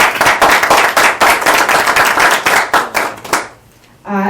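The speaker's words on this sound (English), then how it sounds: "we give Dr. Tracy Powell a round of applause" A crowd gives Dr. Tracy Powell a round of loud, busy applause, many hands clapping close and continuously before it cuts out abruptly near the end, where a voice briefly begins.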